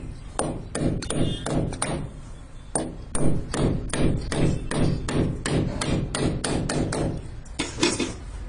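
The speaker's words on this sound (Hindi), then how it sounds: "एक कील इस साइड ठोके और एक कील इस साइड ठोके और बढ़िया टाइट से ठोके" Nails are hammered into a wall to hold an electrical pipe in place, with a steady series of sharp, ringing metallic blows about every third of a second, loud and close, with no talking.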